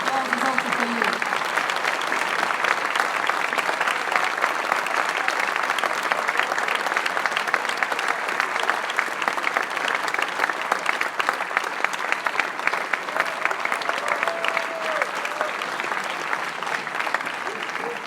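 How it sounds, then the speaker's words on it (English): Sustained audience applause at a conference, dense and steady clapping from a large crowd throughout, with faint voices mixed in. "So this applause is also for you."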